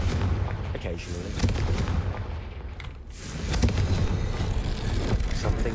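Confringo blasting spell cast in the game Hogwarts Legacy, heard as a dense run of loud, booming explosive bursts that rumble and crack one after another across the whole stretch, close and forceful.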